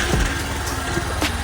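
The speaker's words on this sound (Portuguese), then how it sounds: "agora vamos verificar aqui como ficou o barulho do motor" A Honda Bros 160 motorcycle engine, reassembled after repair work for a noise problem, runs at a steady idle with a continuous low rumble, close and fairly loud, with no talking.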